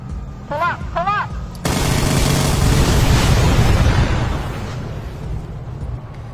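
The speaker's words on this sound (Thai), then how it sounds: "วินาที F16 ทำลายรถถังเขมร" An F-16 strike on a Cambodian tank: a sudden loud blast erupts into a dense, sustained roar of explosions and rumbling debris, fading slowly. Two short rising electronic tones come just before the blast.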